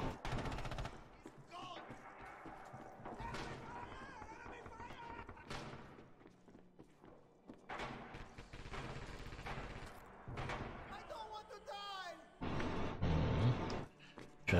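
Bolt-action rifle shots ring out across a Red Orchestra 2 multiplayer battle, booming singly amid other distant gunfire and battlefield noise. Voices talk over it, and the firing grows louder near the end.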